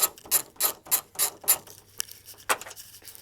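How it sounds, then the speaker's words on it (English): A ratchet backs out three T30 Torx screws from the rear exterior door handle of a 2008 second-generation Toyota Prius, giving a series of sharp, close clicking bursts in an uneven rhythm with short pauses between them. "Removing the 3 T30 screws,"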